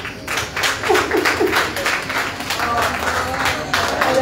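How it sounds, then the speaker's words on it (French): A seated audience at a ceremony supporting women entrepreneurs claps warmly for an honoured woman, a steady ripple of many hands at moderate distance, fairly loud and continuous, with faint voices mixed in. "je vais vous demander d'applaudir chaleureusement Madame Laïkati Ilman"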